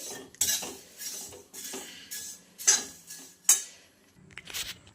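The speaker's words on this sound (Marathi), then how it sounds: "तेल किंवा तूप न घालता हे पोहे छान असे खरपूस सोनेरी रंगावर भाजून घ्यायचे आहेत" Dry poha flakes being roasted without oil or ghee in a pan over medium heat and stirred constantly with a spoon, giving repeated close scraping and light clinking strokes in an irregular rhythm, with no voices.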